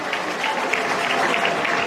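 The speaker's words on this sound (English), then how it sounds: "A big round of applause for him." Crowd applause at a public gathering in Ghana fills the space, a dense continuous wash of many hands clapping with no clear voices on top.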